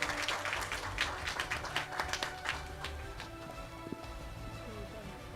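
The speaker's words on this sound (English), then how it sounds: "Let's give one more big round of applause to all our finalists and winners for their outstanding" Audience at a Hong Kong PKI Forum event applauds finalists and winners, scattered close claps that thin out and fade into a quieter room.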